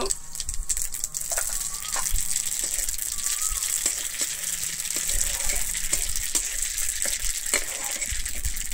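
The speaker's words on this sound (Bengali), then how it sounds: "আমার সমস্ত মশলাটা কিন্তু খুব ভালোভাবে ভাজা হয়ে গেছে।" Panch phoron, black mustard seeds and a little poppy seed fry in hot oil for a mango chutney, giving a steady crackling sizzle with occasional pops and light stirring scrapes throughout, close and continuous without talk.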